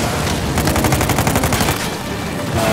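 Blind-fire gunshots in Uncharted 4 rattle out in a fast, loud, continuous burst of rapid shots, close and dense with no voices.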